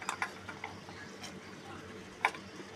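Chopped capsicum tipped into a pan of onion-garlic paste and carrots for homemade chicken soup, giving a few light clatters and a soft sizzle, with scattered quiet clicks of a utensil against the pan.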